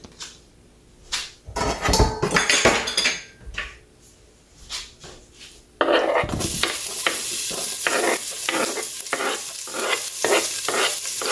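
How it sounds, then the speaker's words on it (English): Onion sautéing in olive oil for callaloo, a steady close sizzle that jumps up sharply partway through, with repeated scraping stirs in the pan and utensil clatter earlier on. "And I'll let that saute for a few seconds."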